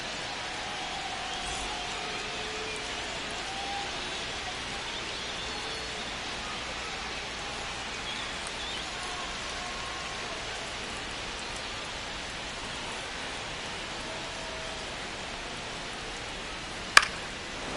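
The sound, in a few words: rain falling during a baseball game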